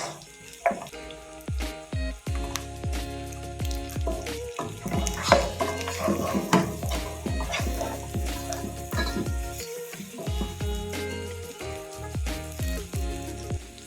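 Beef pilau ingredients brown and fry in a pot, a steady close sizzle with repeated clanks and scrapes of stirring throughout, no voices.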